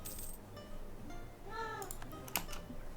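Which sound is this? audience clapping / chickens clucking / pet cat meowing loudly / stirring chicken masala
pet cat meowing loudly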